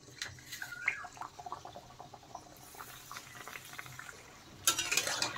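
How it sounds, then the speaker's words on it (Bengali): Sattu-stuffed kochuri pastries deep-frying in hot oil give off a faint, steady sizzle and crackle, with soft clicks of handling and a louder burst of bubbling near the end. "এইভাবে আরো কিছু কচুরি আমি ভেজে নেব।"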